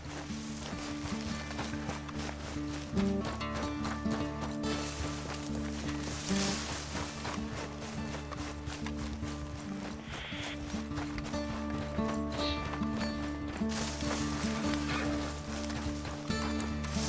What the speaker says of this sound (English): Apparently ride the horse and carry the bag at the same time for some reason.